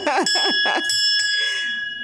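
A bright bell in a podcast studio rings with sustained metallic tones that ring out over about two seconds, following a short burst of speech at the start.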